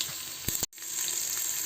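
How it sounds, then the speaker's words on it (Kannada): Mustard seeds and chopped garlic fry in hot oil as a tempering for sambar, making a close, continuous sizzle with a brief burst of spattering and a momentary dropout. "ಈಗ ಚಿಟ್ರು ಪಟ್ರು ಅಂತ ಸಾಸಿವೆ ಎಲ್ಲ ಚೆನ್ನಾಗಿ ಫ್ರೈ ಆಗಿದೆ."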